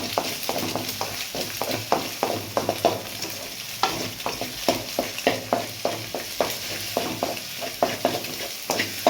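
Chicken fried rice ingredients stirred in a sizzling pan, with a spatula scraping in quick, regular strokes over a constant frying hiss, close and clear with no talking.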